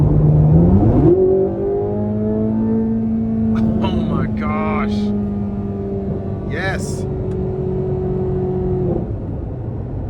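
A 2024 Chevrolet Corvette Z06 engine roars as it accelerates hard and holds a high, sustained drone, with brief excited voices breaking in over it.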